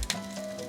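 Tofu fries in a pan with a steady, close sizzle and faint crackle, heard alone for a brief moment.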